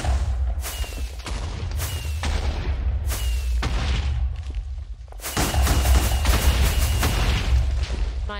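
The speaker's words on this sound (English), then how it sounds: "the final thing is destroyed my statue with a rocket launcher" Rocket launcher explosions tear apart a statue in modded Minecraft: several sharp, loud blasts land one after another, then a denser, sustained barrage of booming detonations with rumbling debris follows.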